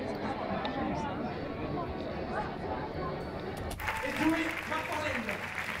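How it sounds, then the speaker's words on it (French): Steady applause and crowd chatter fill a cinema hall at a film premiere, with a burst of brighter clapping and cheering swelling near the end. "commence gentiment à arriver dans la salle de cinéma sous un tonnerre d'applaudissements"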